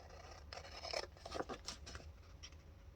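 Scissors snip and rub through paper while a planner's monthly layout is trimmed, a few soft crisp cuts and rustles close by, quiet and without talk.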